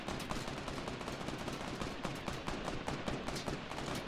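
Rapid gunfire in the battle royale video game Fortnite, dense bursts of shots crackling continuously and loudly throughout, with no talking.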